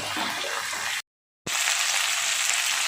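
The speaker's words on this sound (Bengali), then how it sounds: "এবার এগুলো একটু নাড়াচাড়া করে হালকা ভাজা ভাজা করে নিচ্ছি" Carp and eggplant being stirred and lightly fried in a pan for a carp curry: a steady, bright sizzle broken by a brief silence midway, then a louder, continuous sizzle.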